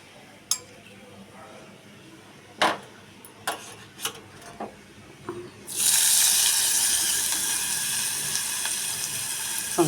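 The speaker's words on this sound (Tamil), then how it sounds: "இது வரைக்கும் எல்லாத்தையும் வதக்கணும்." Whole spices hit a hot pan: two cinnamon sticks, fennel, stone flower, bay leaves and poppy seeds, with a few sharp clinks and taps of a spoon before a steady loud sizzle takes over and holds to the end.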